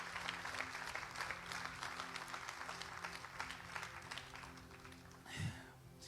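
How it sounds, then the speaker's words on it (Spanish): A church congregation applauding during a sermon, dense continuous clapping that carries on for several seconds and then fades, with a brief voice or low thump near the end. "si va a dar ese aplauso, déselo a Dios fuerte"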